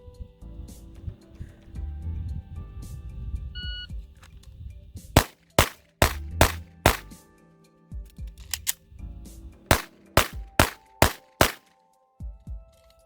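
A Walther PDP compact pistol fires sharp, loud, close gunshots in an IDPA drill: a quick string of about five, then a short pause for a slide-lock reload, then a second rapid string, with no talk.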